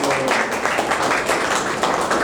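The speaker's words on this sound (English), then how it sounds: "We congratulate them, so we clap for them." An audience at a live interaction with UPSC toppers gives sustained, dense applause. Many hands clap continuously at a steady, loud level throughout, with no break.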